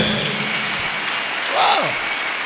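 A church congregation applauds in a dense, steady wash of clapping that rises briefly, with a voice calling out over it.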